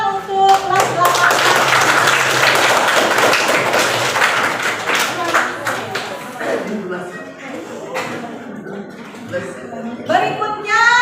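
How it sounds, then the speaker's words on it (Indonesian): Classmates clap for class 8 during a school activity, loud close rapid clapping with taps and thumps that thins into scattered claps and voices toward the end. "tepuk tangan untuk kelas 8"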